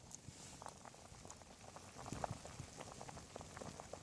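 Steady bubbling and popping of soup boiling in a pot on a small IKEA hobo stove, close up, with continuous fine crackle and occasional louder pops.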